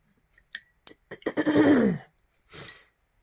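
Someone clears their throat up close, a few short harsh rasps building into a longer gravelly hack, then one final short clearing.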